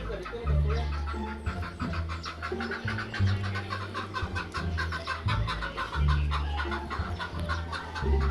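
Chickens cluck repeatedly nearby in a busy, overlapping chorus, with low rhythmic background hum throughout.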